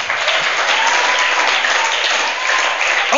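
A church congregation applauds loudly and steadily, a dense, unbroken wash of clapping hands that fills the room with no pause for the whole stretch.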